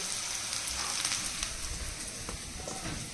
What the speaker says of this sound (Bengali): আমি এখন ভাজা করছি হচ্ছে ভেন্ডি আলু ভাজা